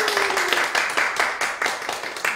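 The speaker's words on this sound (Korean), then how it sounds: "다시 한번 큰 박수 부탁드립니다." Audience applause at a charity concert of service and sharing, a dense, steady wash of many hands clapping that continues without a break and with no speech over it.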